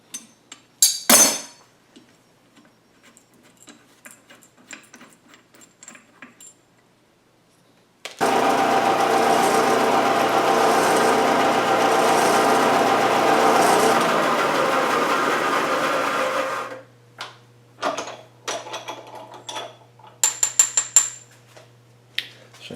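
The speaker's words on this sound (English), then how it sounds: "So now you will see that we have a hole bored through our pin." A winch lock pin is bored through on a machine, with a long steady grinding whir of drilling in the middle, framed by scattered metallic clinks and handling noises before and after.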